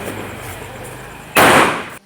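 A Diwali firecracker bursts in one loud, sudden crack with a brief rushing tail during a family celebration, after steady background noise.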